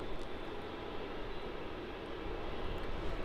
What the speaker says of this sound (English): And there goes that Retro 737 going towards Terminal 1.